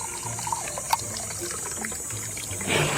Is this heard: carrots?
no